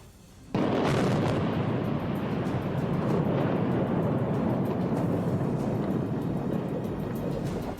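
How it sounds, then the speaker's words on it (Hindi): A Ukrainian 9K111 Fagot anti-tank guided missile launches at Russian tanks with a sudden loud blast, then a sustained roaring rush of rocket motor noise that holds steady for several seconds with no voices. "यूक्रेन ने मिसाइल दाग दी।"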